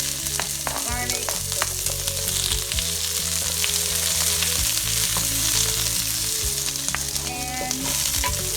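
Onion and garlic frying in a pan for chicken pork adobo, a steady loud sizzle with clinks and scrapes of stirring throughout, no voices.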